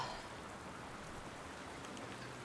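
Rain falling in the video game The Last of Us Part II, a steady, soft hiss of drops on surfaces that stays even and fairly faint throughout, with no voices.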